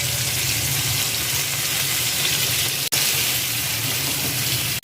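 Tomatoes and spices fry in a pan with a constant bright sizzle, close and continuous, with a brief cut partway through and no talk.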